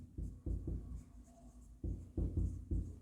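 Marker or chalk strokes on a board in an accounting lecture, a run of short rhythmic scratchy taps and strokes in quick bursts with a brief pause between groups, fairly close and quiet, no talking.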